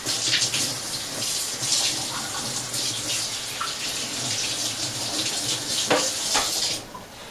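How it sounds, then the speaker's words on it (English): Tap water runs steadily into a sink while wine kit equipment is rinsed between fermentation steps, a continuous splashing gush with faint clinks of gear and no talking. "One of the things I commonly do is rinse off stuff between every single step."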